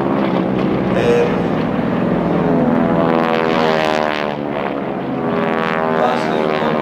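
North American T-6 Texan (Harvard) propeller planes taking off in formation make a loud, close, buzzing radial-engine drone with a throbbing propeller tone that swells and fades slightly as they pass, with wind buffeting the microphone.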